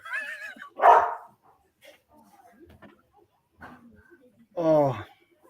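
A single dog barks loudly nearby, a sharp bark near the start and a longer harmonic yelp toward the end, with quieter scattered sounds and faint talk between them.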